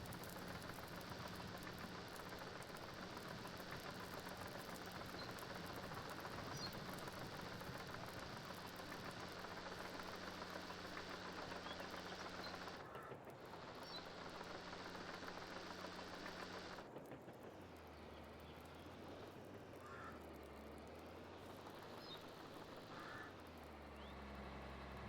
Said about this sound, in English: Tractor's getting a few laps around the field done